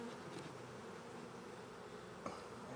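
A honeybee colony humming steadily with new queens present, the bees signalling to those outside; a continuous, close, even drone with a brief sharper sound near the end and no talking.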